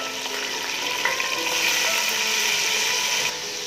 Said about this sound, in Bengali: মাছটা আমি ভালো করে ভেজে নিচ্ছি